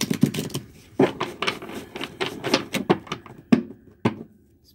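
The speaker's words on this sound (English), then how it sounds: "Let me shuffle this, and then we'll go get that deck." A tarot card deck being shuffled, with a rapid series of crisp riffling and slapping bursts, some sharper than others, close and alone with no talk.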